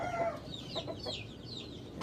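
Chickens of an authentic breed clucking and calling in a short run of rising, squawky notes, near and moderately loud with a steady background hiss, no talking.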